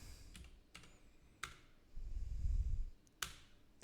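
Several separate keystrokes on a computer keyboard, spaced unevenly in a quiet room with no talking and a soft low rumble partway through.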